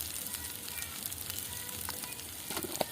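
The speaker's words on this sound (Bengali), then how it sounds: "ভালো করে মশলাটাকে কষিয়ে নেব।" Spice paste with turmeric and salt sizzling steadily in hot oil for a Bengali eggplant curry, a soft continuous crackle with a few faint pops, close by.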